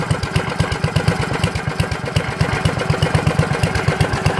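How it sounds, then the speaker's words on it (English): A generator engine runs on biogas made from food waste and drawn from an air compressor tank, chugging at a steady, loud mid-pitched idle with an even rapid pulse and no talk over it. "And now I'm running this generator"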